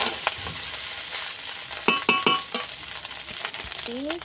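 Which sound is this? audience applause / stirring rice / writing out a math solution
stirring rice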